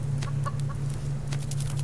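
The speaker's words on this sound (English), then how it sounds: "my chicken's here!" In the survival video game Subsistence, a chicken gives a few short clucks over a constant low hum, fairly faint and repeated in small bursts.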